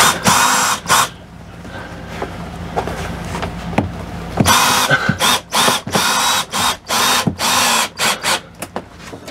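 A power drill drives screws into an RV air conditioner plenum, whirring in bursts of varying length, then a rapid series of short start-stop pulses, loud and close.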